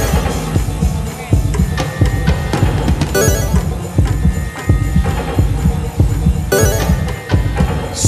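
A loud, steady thumping heartbeat sound effect pulses throughout at 200 beats per minute on a TV game show, repeating in a regular rhythm with occasional brief swooshing accents layered on top.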